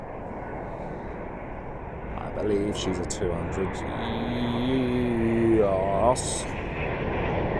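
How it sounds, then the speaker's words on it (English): A British Airways Boeing 777-200 jet with GE90 engines rumbles steadily in the background at London Heathrow, its broad engine roar continuing beneath close talking voices. "It's got British Airways 777 now, and I believe she's a 200."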